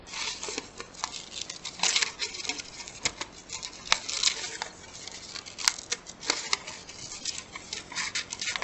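Paper being snipped with scissors while cutting out a craft shape for a preschool aardvark and anthill project, a steady run of close, soft crisp snips and rustles with no talking.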